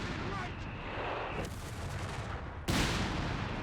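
Vickers machine gun firing in Company of Heroes 3, a dense continuous rattle of rapid shots mixed with distant battle noise, growing louder and sharper near the end.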